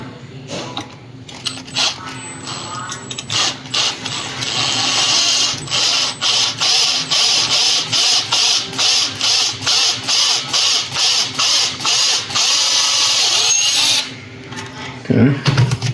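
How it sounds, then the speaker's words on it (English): A small power drill bores out a Gunpla plastic model part for a 1/60 NeoGrade Sazabi, starting with a continuous whir, then pulsing in quick repeated bursts as the trigger is feathered, close up, with a few clunks at the end. "we'll drill this out a little bit"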